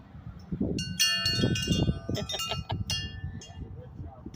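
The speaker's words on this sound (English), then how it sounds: "That is a wind chime." Tinkling metallic wind chime in a community garden plot area, bright ringing tones sounding repeatedly over several seconds beneath a steady low rumble, with scattered clinks overlapping.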